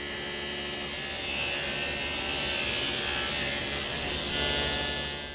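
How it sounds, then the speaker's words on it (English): Table saw ripping wooden stock against a rip fence set at 5/16 inch: a steady, loud high-pitched whine and buzz of the blade cutting continuously through the board, swelling slightly midway and easing off at the end. "I've set the rip fence at 5/16 of an inch width."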